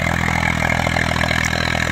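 An Eicher 333 tractor pulls an 11-tine plough through a field, its engine a loud, steady, close diesel drone that runs without a break and without any talking.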